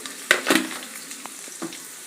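Fried idli pieces are tossed in a pan, with two quick clattering spoon knocks near the start, then a faint sizzle and occasional lighter scrapes.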